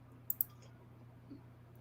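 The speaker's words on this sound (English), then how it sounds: "Sorry, clicking on things." Two quick, crisp clicks from a computer mouse come close together near the start, small and close against a quiet background hum; no talking.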